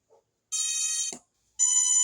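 L200 Pro Max drone giving its power-on tone: two loud, steady electronic beeps, the first about half a second long and the second starting after a short gap, with no talk.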